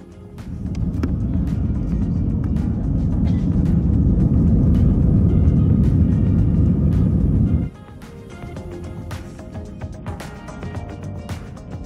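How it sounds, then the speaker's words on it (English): Air France A320 jet engines spool up for takeoff at the runway, heard from inside the economy cabin as a loud, steady low roar that holds for several seconds, then drops sharply to a quieter rumble. "The admittedly nothing burger of a spool up is up next."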